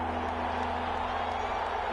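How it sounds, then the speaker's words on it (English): Steady crowd roar in a Madden 21 American football video game stadium ahead of a big third down, a continuous dense wash of cheering held at even loudness with no single voices standing out. "the crowd getting into it as we come up on a big 3rd down"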